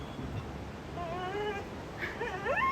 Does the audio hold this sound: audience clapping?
no